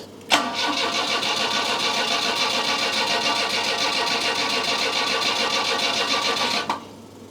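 A car engine's starter cranks steadily for about six seconds during a starter system test with a SUN analyzer. The whirring, pulsing drone is loud and close, starting and stopping abruptly, with no voices.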